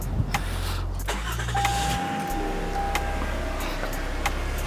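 A small engine cranks and catches, then settles into a steady running drone with a whining tone, close by, with no talk over it.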